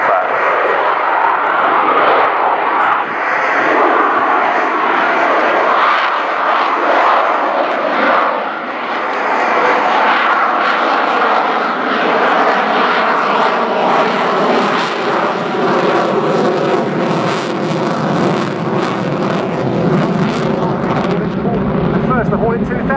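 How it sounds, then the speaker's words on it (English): A Boeing Super Hornet roars loud and steady through a slow, high-alpha pass at an air show, the deep jet engine noise lasting throughout and shifting lower toward the end. "The loaded G-roll to bleed the speed off as he prepares for a high alpha pass."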